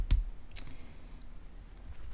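A card laid down on a table gives a sharp close tap, followed by a lighter click a moment later, then quiet room tone.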